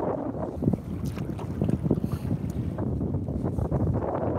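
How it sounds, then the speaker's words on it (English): Steady wind gusts outdoors on the water while snapper fishing from a boat, a broad roaring rush with fluctuating buffeting against the microphone throughout, no talking. "It's a little bit windy, but not too bad."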